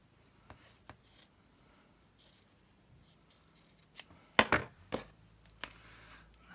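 Scissors snip through excess paper while a handmade Peter Rabbit journal is trimmed, a few soft cuts followed by a louder cluster of sharp close snips.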